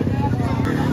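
Motorcycles at a car meet give off a steady low engine drone with rumbling harmonics, close and continuous, with crowd murmur mixed in.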